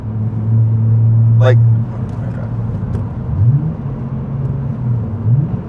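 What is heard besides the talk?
BMW engine revving with Pedal Commander in Sport Plus 4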